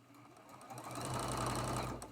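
A sewing machine stitches quilt block patches together, rising from a quiet start into a steady, close mechanical hum. It runs for a couple of seconds, then winds down.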